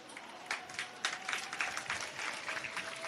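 Audience applause from a crowd at a gathering, a steady patter of many hands clapping at moderate volume, with a few louder swells through the stretch.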